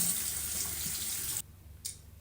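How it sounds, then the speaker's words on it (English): A bathroom tap runs in a steady hiss while hands are washed, then shuts off abruptly, leaving a faint brief splash afterward. "let me wash my hands"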